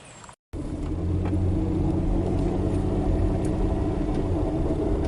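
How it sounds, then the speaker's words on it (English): A car pulling away at a historic mill village in Glencoe, North Carolina; steady low engine rumble heard from inside the vehicle, loud and continuous after a brief cut at the start. "let's get in the vehicle and we'll move one more time and tour Munchkinland and head to the dam"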